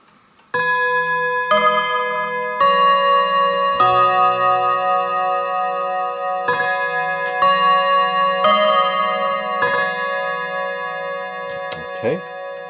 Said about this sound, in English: Now, the 30-minute chime is this.